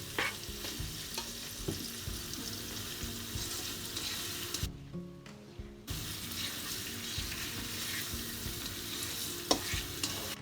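King prawns frying in a pan, a steady soft sizzle with stirring scrapes and clatter throughout, briefly dipping quieter midway before the sizzling resumes.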